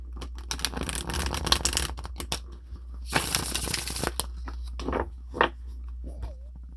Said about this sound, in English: Sometimes they get a little sloppy when you go to shuffle them.